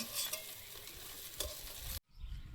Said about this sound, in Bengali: মাছগুলো ভাজা হয়েছে, তুলে নেব।